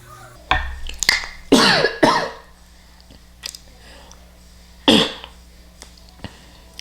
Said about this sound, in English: I'm a little bit coughing from spraying this fragrance